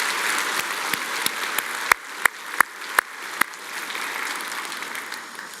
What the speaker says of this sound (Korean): 그 주님께 우리 박수로 함께 영광 돌리겠습니다.